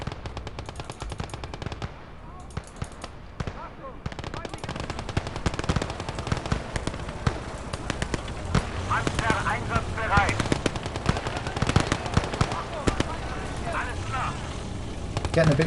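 Machine gun fire in the World War II game Call to Arms: Gates of Hell rattles almost nonstop in rapid bursts, mixed with scattered gunshots and distant battle rumble, while someone talks over the din.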